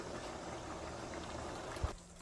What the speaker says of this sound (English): you're going to let that simmer for about 2 minutes